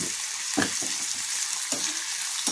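Carrot, potato and corn with a little salt are sautéed in a pan, producing a steady close sizzle broken by a few scraping stirs of a spoon. No one speaks.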